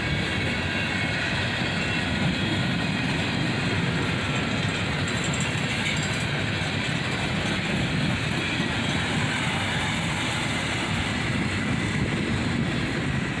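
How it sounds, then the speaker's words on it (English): A long CSX freight train rolls past with its slab cars, a steady rumble and wheel noise at a constant level, close by and unbroken, with no voices. "we get near the end of the slab car cut and the end of the train"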